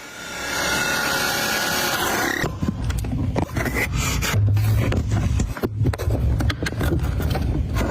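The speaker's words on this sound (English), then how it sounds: "Drilling a hole for some reason." Grinding, rasping mechanical noise of a drill boring into material, starting with a harsh high whine, then a steadier lower churning with brief pauses.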